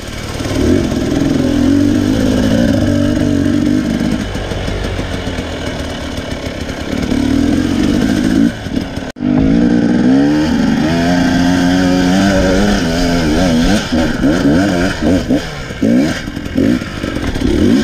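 A dirt-bike engine on an off-road trail runs loud and close, revving hard and dropping away in repeated surges, with a brief cutout midway before it roars again.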